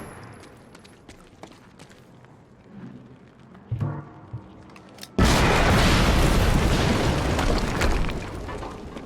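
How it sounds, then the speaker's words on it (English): An explosion in the video game Quantum Break bursts in after quiet footsteps and a few knocks, a sudden loud boom followed by a sustained roaring rumble. "we just heard an explosion near the harvesting perimeter"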